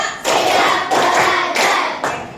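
A group of elementary school pupils claps together in an SDN Tengah 03 classroom during an ice-breaking game, giving four loud, distinct bursts of unison clapping spaced evenly apart.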